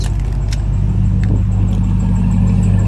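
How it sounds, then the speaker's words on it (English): Ram TRX pickup fitted with a MagnaFlow exhaust idles with a steady, deep rumbling drone, close and constant, with a few faint light clicks and jingles over it. "Let's go ahead and check the exhaust."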